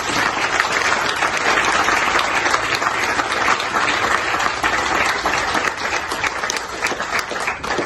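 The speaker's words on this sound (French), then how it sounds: "Bravo à vous, je veux qu'on vous applaudisse aussi" Outdoor crowd applause for children's street art at a neighborhood gathering, steady, loud and dense clapping that holds evenly throughout with no pause.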